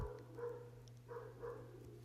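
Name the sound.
dog barking outside on a patio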